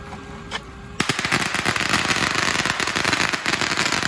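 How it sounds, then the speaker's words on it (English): Fourth of July fireworks burst in a rapid crackling string. After a single pop, a loud, continuous rattle of firecracker-like reports runs to the end, close by and dense. "That's how you bring your fireworks to the occasion."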